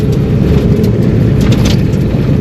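A car not built for rallying drives a rally stage on new tires, and its engine gives a loud, steady, close roar throughout the short stretch.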